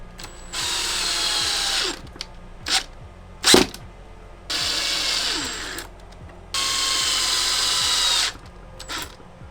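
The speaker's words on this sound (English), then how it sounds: "we're basically just going to attach all of the corner points with these 2-inch screws" Power drill driving 2-inch star-bit screws into wooden van studs whines in three long loud bursts of about one and a half seconds each, separated by short clicks and knocks.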